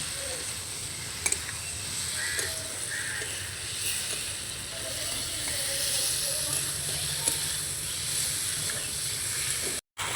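Fried potatoes and pointed gourd sautéing in oil in a pan, a steady close hiss and sizzle running throughout at moderate level, with occasional faint stirring clicks and no talking.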